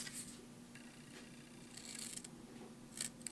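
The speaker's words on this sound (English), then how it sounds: "Next thing we're going to do is we're going to snip in on all 4 corners" Scissors snipping into the corners of a paper matchbox, a few short crisp cuts spaced over a quiet background, faint and close.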